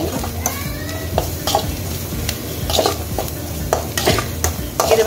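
Chicken is mixed with its spices and ingredients for chilli chicken, with a run of close, rhythmic wet stirring strokes and light scrapes against the vessel over a soft sizzling bed.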